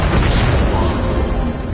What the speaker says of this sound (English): How did Jonesy survive that explosion?